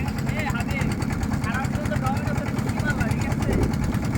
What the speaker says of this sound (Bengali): সামনে একটা ট্রলার যাচ্ছে।